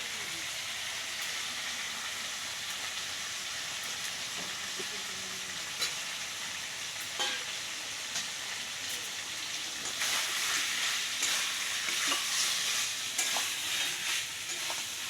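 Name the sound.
fried potatoes added to chicken curry, sizzling and stirring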